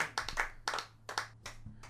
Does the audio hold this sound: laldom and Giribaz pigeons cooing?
no